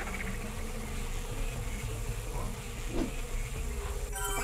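Bees buzzing in the Madagascar video game, a steady insect drone running under game music and ambience, with a brief rise in the middle.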